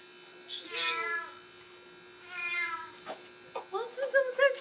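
A kitten meows several times close by, drawn-out, wavering cries separated by pauses, over a faint steady electrical hum, with a person's voice joining toward the end.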